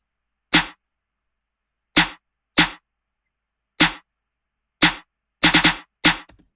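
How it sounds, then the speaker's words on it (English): Layered chop and clap snare samples in an FL Studio beat hit sharply and dry in an irregular trap-style pattern with silence between them, including a quick triplet flurry near the end. "I just layered these two snares together."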